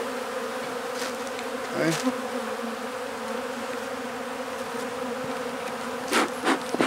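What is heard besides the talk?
yellow jacket wasps buzzing in a beehive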